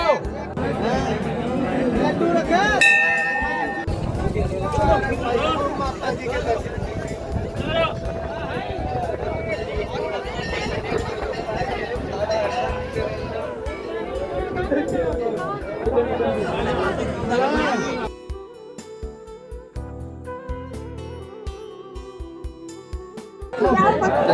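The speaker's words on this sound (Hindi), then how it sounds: "देख सकते हैं आप भीड़ कितनी है यहाँ पे" A crowd of pilgrims chattering at Purnagiri temple during New Year celebrations, a steady close babble of many voices with footsteps and shuffling, thinning toward the end as the scene quiets.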